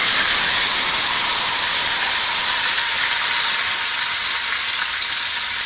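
Hot cumin-seeded oil tempering poured into yogurt for a traditional eggplant dish, giving a loud, bright sizzle and hiss that fades slightly as it settles, with no talk.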